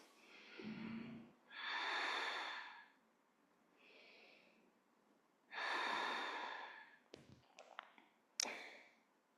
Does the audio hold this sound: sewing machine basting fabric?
no